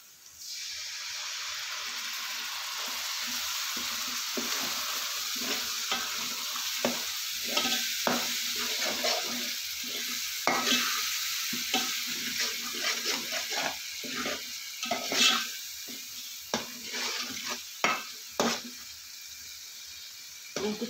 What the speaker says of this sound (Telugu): ఇప్పుడు చింతపండు పులుసు వేసుకుందాం.